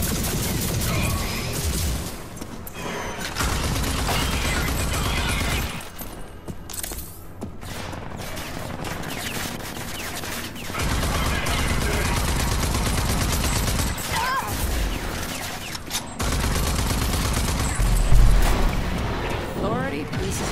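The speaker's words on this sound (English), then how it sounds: "Okay, this gun's paying off." Gunfire in the shooter RAGE 2, with repeated loud bursts of shots and impacts amid chaotic combat noise, interrupted by short lulls, while someone talks over much of it.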